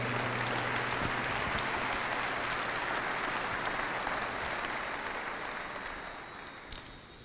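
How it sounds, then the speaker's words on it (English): A large audience at a military commanders call gives a care team a sustained round of applause, dense steady clapping that gradually tapers off toward the end. "If we can give them a huge round of applause."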